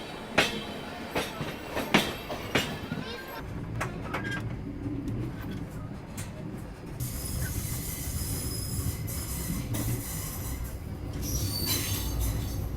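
A passing Nagercoil Express train, heard loud and close alone: wheels clatter with a few sharp transient knocks early on, then a sustained rumbling roar with high metallic wheel squeal running to the end.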